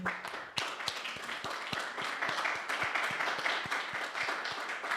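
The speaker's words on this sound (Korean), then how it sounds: "큰 박수로 맞이해 주시면 감사하겠습니다" An audience at a lecture standing and clapping continuously, falling into a steady rhythmic beat, loud and sustained for the whole stretch.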